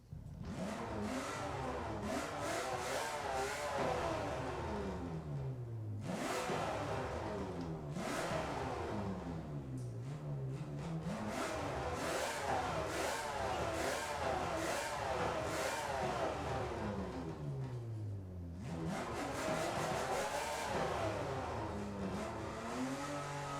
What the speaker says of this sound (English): I think we should start it up and then maybe take it for a little